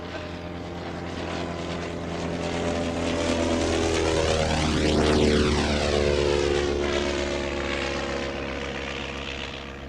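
Vintage Sopwith Pup biplane with a propeller engine flying over a grass airfield. The engine drone swells as the plane approaches, peaks close by mid-pass with a falling pitch sweep, then fades as it moves away. No one speaks.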